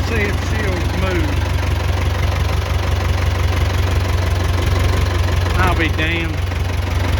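An old vehicle's engine idles with a steady, rough, knocking low rumble close by, while someone speaks over it.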